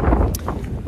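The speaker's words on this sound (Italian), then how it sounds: "il vento è abbastanza fastidioso" Wind buffets the microphone beside a lake while riding a Vespa scooter, a loud continuous low rumble with gusty swells and no speech.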